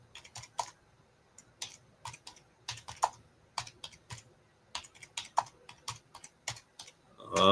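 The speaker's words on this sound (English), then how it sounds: "Now it's dead air because I'm typing in." Typing on a computer keyboard, with irregular bursts of crisp, close key clicks separated by short pauses, the rattling continuing throughout with no talk.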